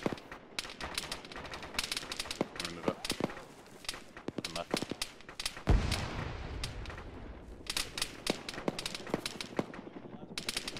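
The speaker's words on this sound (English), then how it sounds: "I'm gonna throw a frag north outside the compound" A frag grenade thrown north outside a compound in the Arma video game, set among jungle trenches: one deep, loud blast midway through dense, continuous gunfire and machine-gun bursts, with voices talking over the combat.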